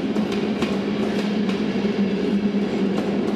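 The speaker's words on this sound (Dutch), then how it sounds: "En hier gaat die trein bestuurd vanuit het stuurstaand rijtuig op weg naar Zwolle." An ICR passenger train, driven from its control car, runs along a railway with a steady, loud rumble of wheels on track and faint periodic clicks of rail joints.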